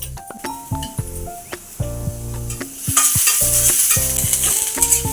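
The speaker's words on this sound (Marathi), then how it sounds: "असा लालसर लसूण आणि कांदा आपण भाजून घ्यायचा आहे ना" Onion and garlic roasting in a pan for Maharashtrian masvadi rassa, a steady close sizzle broken by repeated scraping strokes of a spatula, with occasional metallic clinks; the frying grows louder and brighter partway through.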